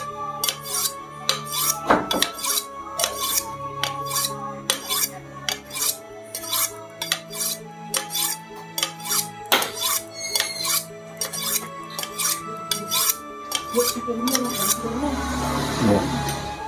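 Steel butcher knife being honed, a quick series of bright metallic scrapes and clinks repeating in an uneven rhythm at close range, with a heavier knock now and then and a brief rough rasp at the end.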